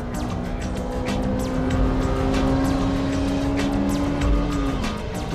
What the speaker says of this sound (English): I can approach this hairpin at full throttle.